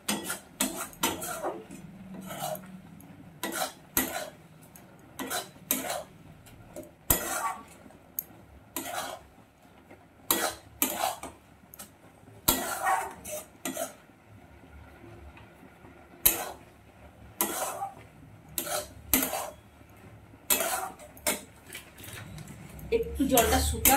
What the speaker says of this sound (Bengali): এইভাবে ফুটতে ফুটতে আমি নাড়িয়ে চাড়িয়ে দিয়ে একটু